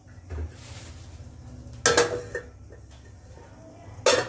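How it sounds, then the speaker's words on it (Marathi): A metal lid is set onto a pot of tomato chutney with coriander, giving two sharp clanks with short ringing tails and a lighter knock between them against a quiet kitchen background. "आणि आता मी यावर झाकण ठेवून घेते"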